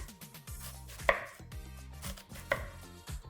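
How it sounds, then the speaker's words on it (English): A knife chops kidney beans' vegetable companions on a cutting board, a quick series of crisp, close taps with a couple of louder thuds, no talking. "And then we just chop away."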